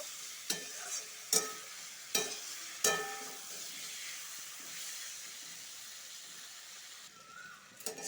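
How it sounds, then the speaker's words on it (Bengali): Pointed gourd (potol) pieces frying in oil in a pan, a steady soft sizzle and hiss with several sharp clicks of a spatula stirring against the pan, close but fairly quiet. "ভালো করে ভেজে নিব"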